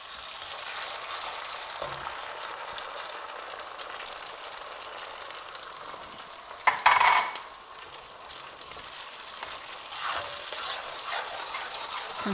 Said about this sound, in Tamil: இப்போ வந்து அரைச்ச மாவு இதில் ஊற்றி வதக்கிடலாம்.